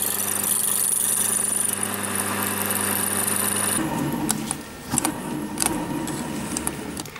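A small power drill whirs steadily at a constant pitch for a few seconds while drilling a small recess in aluminium, then cuts out, leaving scattered clicks and light scraping of metal.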